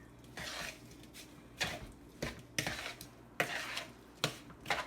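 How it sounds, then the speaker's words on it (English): A spoon stirs crab cake mixture with eggs in a bowl, wet scraping strokes repeated in an irregular rhythm, close and moderately loud. "I'm gonna break into the eggs first so it's easier to mix, and I'm gonna mix it in."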